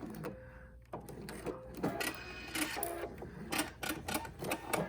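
A sewing machine makes one more stitch and then reverses, giving close, clicky mechanical ticks and short whirring bursts at an uneven rhythm.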